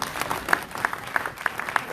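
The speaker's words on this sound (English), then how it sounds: "Give her a hand clap." Audience at a diaspora conference plenary session claps in a loose, scattered patter of individual hand claps, fairly faint and sparse across the short stretch.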